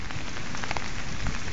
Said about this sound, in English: Now it is pouring rain in buckets and thundering and storming all around me.